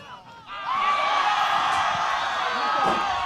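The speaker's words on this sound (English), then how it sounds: "You can hear the crowd and excitement of that move." Crowd at a high school soccer match between Lake Orion and Oxford rises suddenly into a sustained loud roar of cheering and whoops that holds steady.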